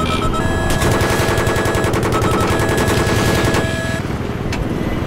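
A Battlefield 3 helicopter's machine gun fires a long, loud, continuous burst close up over a steady rotor drone, then stops, leaving the engine hum.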